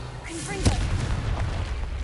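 A Confringo fire-blast spell bursts once in Hogwarts Legacy, a short sharp boom over a low rumbling game backdrop, with faint voice-like tones nearby.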